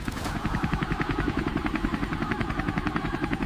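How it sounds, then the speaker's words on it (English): A helicopter landing, its rotor thumping in a fast, steady rhythm, loud and close, with a constant engine whine underneath. "And saw Abby stepping out of his golden helicopter with his bodyguards rolling out a red carpet just for him."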